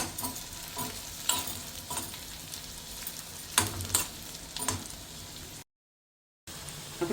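Murungai keerai (drumstick leaves) frying with egg in a pan, a steady close sizzle with occasional louder stirring scrapes and spatters, briefly cut out near the end.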